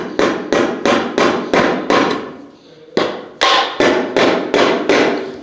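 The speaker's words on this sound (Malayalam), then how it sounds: "മുകളിൽ നമ്മളിങ്ങനെ ഒരു വുഡ് കൂടി അടിച്ചു കൊടുക്കുന്നുണ്ട്." A hammer strikes a wooden piece being fixed in place on top during house renovation, about ten sharp, loud blows in an uneven rhythm with a short pause midway.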